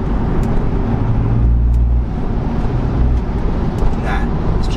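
A car drives along in fourth gear, its engine a steady loud drone with a low hum that shifts pitch partway through, and road noise all around it.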